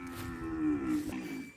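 A single long, low moo from cattle at a Brazilian cattle sale where calves and heavy bulls are bought, drawn out for over a second and fairly close, with no one talking.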